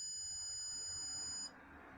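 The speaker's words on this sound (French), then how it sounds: "Et la sonnerie se met à sonner en même temps." An electronic alarm buzzer shrills with steady high-pitched tones, loud and continuous for about a second and a half before it abruptly cuts off, leaving a quieter background hiss.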